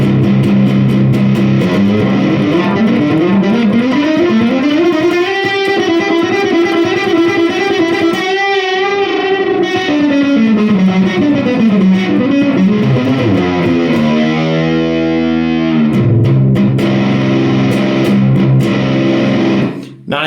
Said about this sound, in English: Really sounds like a heavy, heavy fuzz at that point.